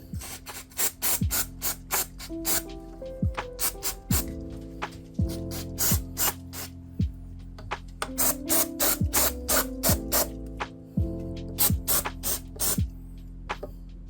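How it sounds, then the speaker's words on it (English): Repeated short hissing bursts of brake cleaner sprayed onto a Peugeot Speedfight 2 100cc scooter engine piston during a strip-down, the spurts close and sharp with small clinks of metal parts between them. "Give this piston a clean up with some brake cleaner."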